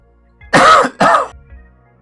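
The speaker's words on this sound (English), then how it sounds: "Obviously still have this cough." A man clears his throat and coughs in two quick, close bursts, loud and near, with brief quiet before and after.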